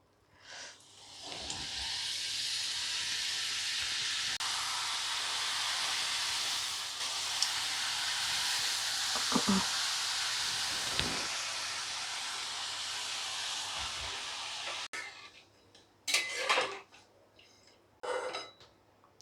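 Sev bhujiya made from besan dough fries in hot oil in a kadai, a dense, steady hissing sizzle that holds for about fifteen seconds before breaking into a few short, separate bursts of crackle.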